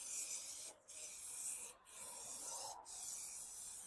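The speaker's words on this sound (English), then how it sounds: "we're going to give the back of the head lining a spray as well" Three long hissing bursts of contact adhesive sprayed onto the foam-backed back of a Holden VY Calais car headlining, each separated by a brief pause, close and even.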